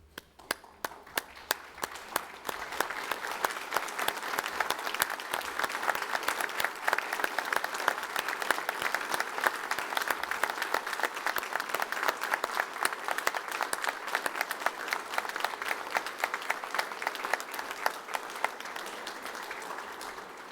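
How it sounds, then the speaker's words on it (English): Large audience applauding graduates at a university graduation ceremony in Newcastle, Australia, starting as scattered claps and swelling within seconds into sustained, dense clapping that holds steady before thinning slightly at the end. "in applauding the wonderful achievement of our graduates."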